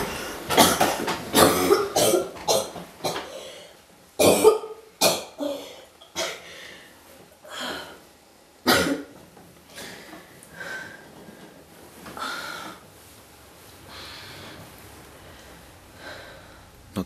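A woman with cancer coughing repeatedly, harsh clustered coughing fits with sharp bursts and throat clearing, loud and close at first, then easing into weaker, spaced coughs and breaths.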